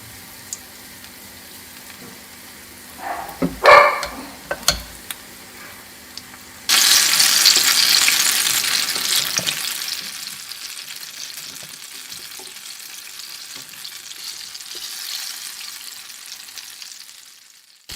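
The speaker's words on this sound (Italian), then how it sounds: "Scaldiamo dell'olio di semi in una padella e versiamo l'impasto con un cucchiaio per volta. Le friggiamo per circa 3 minuti" Spoonfuls of fritter batter drop into hot seed oil in a pan, giving a few clinks and then a sudden loud sizzle that slowly settles into a steady frying hiss, with no talk.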